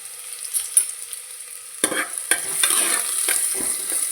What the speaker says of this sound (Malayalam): ഉള്ളി നല്ലോണം മൂത്ത് വരുന്നവരെ ഇളക്കി കൊടുക്കാം